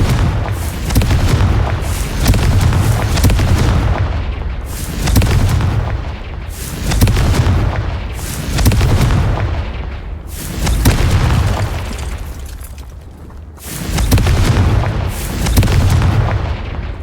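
Repeated Confringo fire-spell blasts in the video game Hogwarts Legacy: about seven deep, rumbling booms spaced roughly two seconds apart, loud and close, each with a crackling burst that decays into the next.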